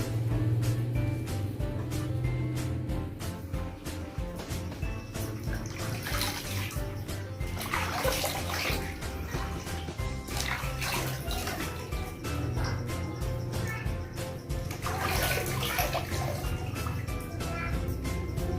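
Water splashes and pours continuously during a baby's bath, close and fairly loud, with running-water texture and occasional higher splashes throughout.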